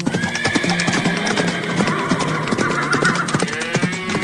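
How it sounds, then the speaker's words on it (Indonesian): Several horses neigh and whinny over a dense, busy scene, with faint clip-clop of hooves running fast across a dusty field; the sounds stay loud and continuous throughout. "Oh tidak, kuda-kudanya malah berlarian kencang, debunya sampai berterbangan kemana-mana."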